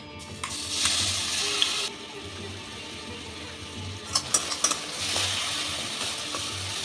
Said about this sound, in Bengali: এখন এই তেলেই দিয়ে দিচ্ছি পেঁয়াজ আর রসুন বাটাটা